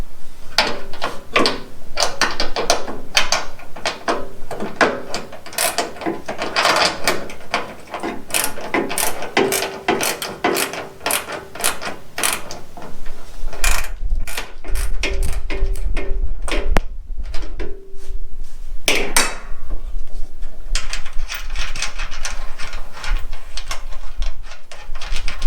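Hand ratchet loosening bracket bolts during a rear license plate camera install, a steady run of close, rapid clicking strokes continuing throughout, with a deeper rumble later on.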